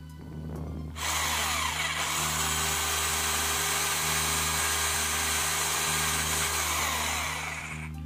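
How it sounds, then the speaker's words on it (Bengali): A power drill bores screw holes in an LED light housing: after a brief lead-in, the motor spins up to a loud, steady whine that holds for about six seconds before easing off. "4 সাইডে 4টা স্ক্রু লাগানোর জন্য আমরা ড্রিল করতে পারি"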